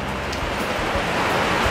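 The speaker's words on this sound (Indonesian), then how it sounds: "ini kondisinya memang lagi hujan" Steady rain falls at a street food stall selling ketoprak, a dense, even hiss of drops on surfaces that stays constant and close throughout, with no voices.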